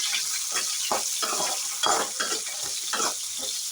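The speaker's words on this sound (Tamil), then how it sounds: "லைட்டாக தேங்காய் மட்டும் வதங்கட்டும்." Coconut pieces sautéing in a pan with pirandai sizzle loudly and close, broken by rhythmic scraping strokes of a spatula stirring the mixture.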